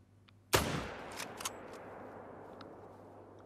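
A single sharp rifle shot fired at a whitetail deer in theHunter: Call of the Wild, a loud crack near the start followed by a long fading outdoor echo and a few faint ticks.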